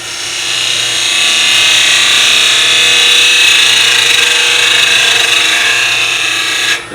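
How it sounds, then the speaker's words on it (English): A woodturning gouge cuts a small wooden piece for miniature nesting boxes on a lathe, giving a loud, continuous, close scraping hiss that holds steady for several seconds before stopping abruptly. "Now let's go to our gouge for a second."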